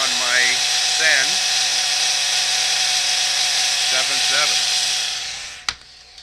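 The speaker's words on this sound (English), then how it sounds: "I'm breaking in the motor on my Sen" An electric motor in a Vaterra Twin Hammers RC car runs during break-in, a loud, steady high-pitched whine that holds almost without a break, then fades and stops with a sharp click near the end.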